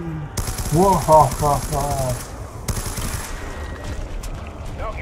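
Rapid automatic gunfire in Call of Duty Nuketown Zombies, loud dense bursts in short strings with brief pauses, under a player's voice reacting.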